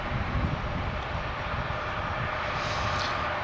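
A fixed-wing airliner at Dallas/Fort Worth Airport, its broad engine roar steady and fairly loud, heard from a distance outdoors without any talking.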